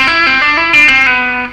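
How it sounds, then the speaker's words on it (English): A distorted, effects-laden electric guitar slides from C down to B and continues in a short legato run of hammered and pulled notes, close, loud and steady with no voice. "And from there we're going to slide from C down to B."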